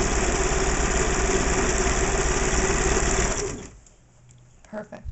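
A Singer Futura 900 sewing machine runs a steady, close, loud zigzag stitch on stretch knit fabric for several seconds, then stops; a voice speaks briefly afterward.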